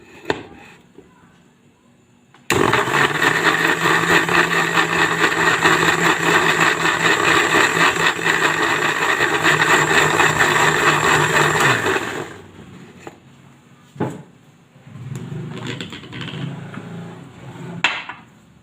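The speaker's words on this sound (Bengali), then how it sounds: "দিয়ে এই যে মিক্সার মেশিনে" A mixer grinder blends a knob of chopped ginger with a little water, a loud steady motor whir running for about ten seconds before cutting off, followed by quieter handling noises.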